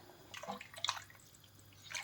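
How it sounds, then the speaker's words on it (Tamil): Water poured into a pot of beef curry with vegetables, a few soft drips and splashes with short pauses between them, close and quiet. "அதில் வந்து கொஞ்சோண்டு தண்ணி ஊற்றி இப்போ இந்த கறியை வந்து நம்ம நல்லா வேக வைக்கணுங்க"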